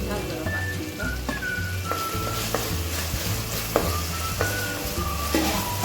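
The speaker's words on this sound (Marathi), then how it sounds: "कांदा आधी तेलमध्ये परतून घेऊयात" Onion and tomato frying in oil in a pan, a steady sizzle with repeated stirring scrapes and clinks, close by, with a voice talking over parts of it.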